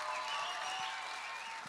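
Audience applause at the close of a live on-stage conversation event with actor Ranveer Singh, a steady broadband wash of clapping that holds evenly from start to end without pauses.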